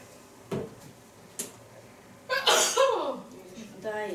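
A single sneeze from a woman, set off by black pepper in a home kitchen while cooking, bursts out loud and close amid light clatter, with people chatting around it.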